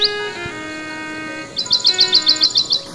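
A small bird sings sweetly, giving an opening bright chirp and then a rapid, regular series of about nine clear, high tweets over sustained tonal background notes, close and distinct.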